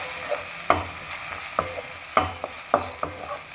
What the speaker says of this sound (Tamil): இந்த ஹீட்லேயே இது வறுபடட்டும்.